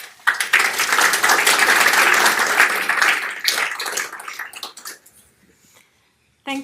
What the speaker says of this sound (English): please welcome Kim